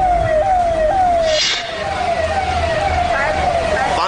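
A fire brigade rescue vehicle's siren wails loudly and steadily through flooded Mumbai streets during heavy rain, its falling tone repeating in long sweeps over a constant rumble of traffic and water.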